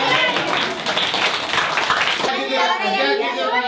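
Children in a village class clap their hands together in a dense burst, with young voices mixed in before the clapping breaks off.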